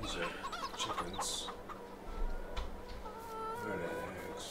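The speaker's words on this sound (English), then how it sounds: "These are chickens." Chickens cluck repeatedly in a farm setting in Farming Simulator 22, several birds overlapping in a busy, steady flock chatter at moderate loudness with no talking.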